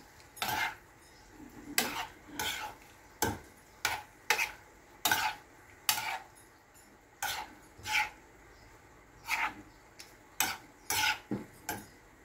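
A utensil stirs chicken mechado and vegetables in a small pan, making repeated scraping clanks against the metal in an uneven rhythm with short quiet gaps between strokes. No one speaks.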